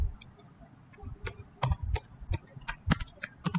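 A config command is typed on a computer keyboard: quiet, close key clicks in an irregular rhythm with short pauses between strokes, and no talk.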